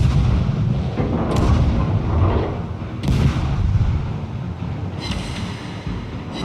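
Heavy warship cannons in World of Warships boom repeatedly over a continuous low rumble, with several sharp blasts spaced a second or two apart.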